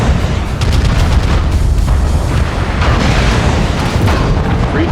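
Heavy mech weapons fire in MechWarrior Online, a loud continuous barrage of booming, rumbling blasts that carries on without a break.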